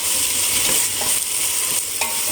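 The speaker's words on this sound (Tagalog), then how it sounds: "Ginisa sa sibuyas at sa bawang." Jute leaves (saluyot) are sautéed with onion and garlic, hissing loudly and continuously in the pan. A few crisp scrapes and taps of the stirring utensil come through close up, with no talking.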